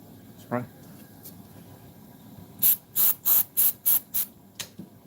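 Spray glue hissing onto a 1964 Cadillac dash during a dash recover, first a lone short burst, then a rapid run of six or seven sharp, loud bursts close by, with a faint voice briefly before.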